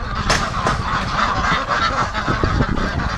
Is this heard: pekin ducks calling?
yes